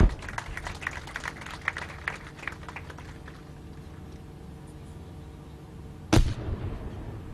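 Weapons fired in sequence at a Pakistani military firepower demonstration, a quick ragged series of distant cracks and thumps followed after a lull by one loud, sharp blast with a rumbling tail, no talk.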